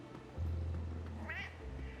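A cat in Split Fiction gives one clear rising-and-falling meow, close and mid-loud, over a steady low game hum with no talking.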